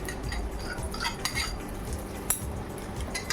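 Poppy seeds and cashews being stirred in a pan, a spoon scraping and clinking against metal in a soft, steady rhythm with one sharper clink near the end, close and fairly quiet with no talk.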